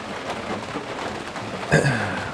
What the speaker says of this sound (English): it's pouring down with rain